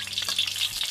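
Garlic sautéing in hot oil in a pan, a brief close steady crackling sizzle with small pops, alone without talk.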